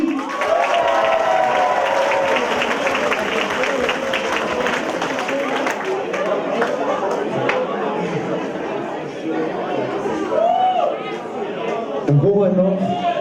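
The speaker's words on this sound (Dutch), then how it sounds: "Maar dan doen we nog een keer een applaus voor de ganse organisatie." A contest audience applauds loudly and steadily for the organisers, with crowd chatter running under the clapping throughout.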